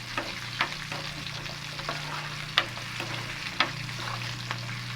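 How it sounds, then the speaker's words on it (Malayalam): Small onions sauté in a pan for a bitter gourd curry, a constant soft frying hiss broken by several sharp clicks and taps of a spoon stirring against the pan, with no talking. "അത് നന്നായിട്ടൊന്ന് വഴണ്ട് വരട്ടെ അപ്പോൾ ഉള്ളി വിധം നന്നായിട്ട് വഴണ്ട് തുടങ്ങിയിട്ടുണ്ട്"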